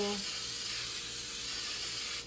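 Non-stick baking spray with flour hisses steadily from a can into bread tins, one continuous close spray lasting about two seconds before cutting off.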